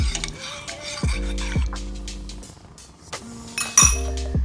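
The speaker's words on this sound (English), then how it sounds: "Now just give it a quick little stir." A spoon stirring milk in a pot while making chai, ringing metallic clinks against the pot rim in a few short bursts, close and bright, with no talk.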